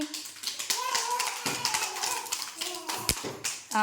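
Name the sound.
children clapping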